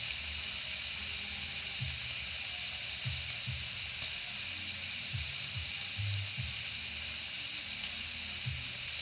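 Bacon frying in a pan gives a steady, bright sizzle with scattered soft pops and low thumps throughout, close and continuous with no voices.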